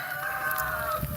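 Chickens cluck close by during a Texas winter storm, a short, moderately loud burst of fowl calls over a steady background hiss of wind and wintry mix.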